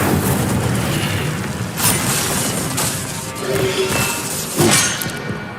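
A burst of crashing, booming spell effects in Hogwarts Legacy, the Incendio fire spell cast among other combat spells, with loud whooshing impacts and thuds repeating over a steady game backdrop.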